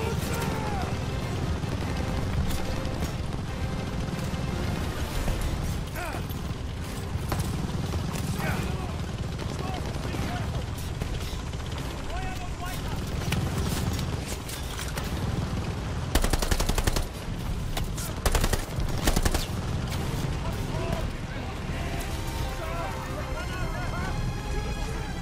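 Dense, loud machine-gun fire in a World War II Call of Duty battle, with continuous rattling bursts and heavy impacts across a chaotic firefight, while soldiers shout orders over the noise.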